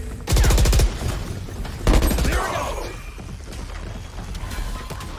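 Bursts of rapid automatic gunfire from a video game weapon in a battle-royale match, a dense rattling volley followed by a second shorter burst, then quieter mechanical clatter and game ambience.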